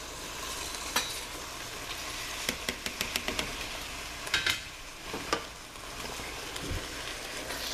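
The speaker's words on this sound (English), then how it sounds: "I'm going to add the beans now." Beans going into homemade beef chili and being stirred in, a low simmering sizzle broken by a quick run of spoon knocks and scrapes against the pot, close and moderately quiet, with no voices.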